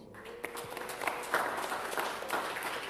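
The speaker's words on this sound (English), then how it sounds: "Please give them a round of applause." A church congregation at an Igbo Anglican Sunday service applauds a couple's 40th wedding anniversary, a faint, distant, scattered patter of clapping with a few louder claps.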